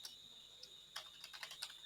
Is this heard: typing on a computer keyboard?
yes